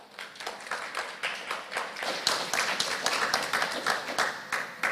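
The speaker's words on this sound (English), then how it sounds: "I think it's worthy of a round of applause in the honor of Dr." A conference audience applauds in honor of Dr. Jeffrey B. Perry, clapping that starts sparse and swells into a fuller, uneven round of hands, fairly soft and close, with no talking.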